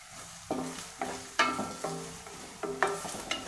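Onions and two green chilies are sautéed in a pan for eggplant bharta. There is a soft frying sizzle, broken by about eight sharp stirring scrapes at an uneven rhythm, and no one speaks.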